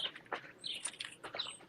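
Faint, brief bird chirps sound outdoors during a walk, a few high tweets scattered through quiet background.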